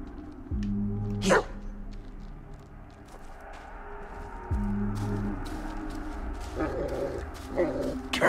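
A dog in the video game Blair Witch gives two sharp, close barks several seconds apart, with yips, whimpers and sniffing sounds between them and a quiet eerie background.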